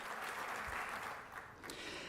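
Applause at a volunteer recognition awards event for the Bridges Foundation, a soft, steady spatter of audience clapping heard from a distance that thins briefly near the end.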